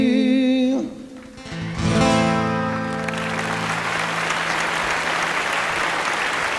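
Audience applause breaks out for a singer at the end of his song on a 2004 variety show, starting right after the final sung notes and swelling into sustained, loud clapping.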